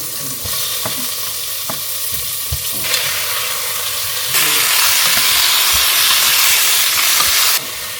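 Pork frying in a pan for a homemade soup gives a continuous close sizzle and hiss. Light scraping knocks come early on, and the sizzle swells louder and brighter midway through before easing slightly near the end.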